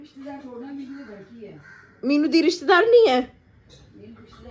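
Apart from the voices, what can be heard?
crow cawing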